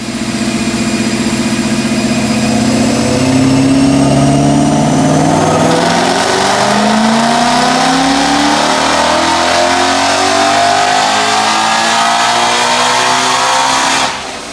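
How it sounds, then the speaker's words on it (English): A 2017 Ford Mustang GT with a Gen 3 Whipple supercharger and FRPP short block makes a full dyno pull, the engine note loud and steady as it climbs in pitch for about fourteen seconds before cutting off abruptly. "let's check out this dyno pull"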